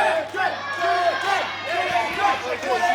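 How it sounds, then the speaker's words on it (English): A wrestling crowd at a live match shouts and chants in rising, wavering waves, a dense, close mass of voices heard without a break. "this crowd are all over Kelly Sixx as we get things started here"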